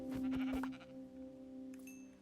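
A single Minecraft sheep bleats once, close and clear, followed by a faint steady hum and a soft high chime near the end.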